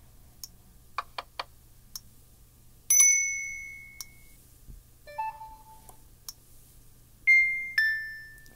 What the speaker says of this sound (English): You got a bunch of different notification sounds.